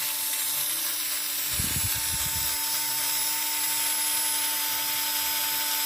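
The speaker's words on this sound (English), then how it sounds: "now I'm going to use a drill to drill the hole in the center" An electric drill bores a center hole through soft, freshly made vinyl-record-shaped soap, a short burst of low whirring lasting about a second against a steady background hum.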